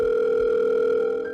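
Telephone tone heard on the line after dialing a number, a steady loud electronic hum held for over a second without talk.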